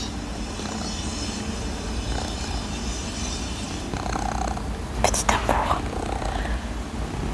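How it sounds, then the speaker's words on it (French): Purring from an old cat, a low continuous rumble heard close-up throughout, with a soft whispered voice over it and a brief burst of rustling handling noise partway through. "Il commence à ronronner."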